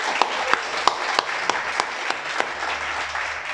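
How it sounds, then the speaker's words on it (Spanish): A congregation at a Shabbat service applauds, a continuous crowd wash punctuated by sharp individual claps standing out near the front, fairly loud throughout. "Un aplauso, ¿no?"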